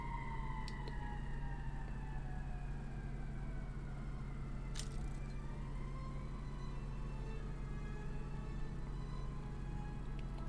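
A siren wails in a city-building video game, its rising and falling tones heard over a steady low engine hum and traffic drone.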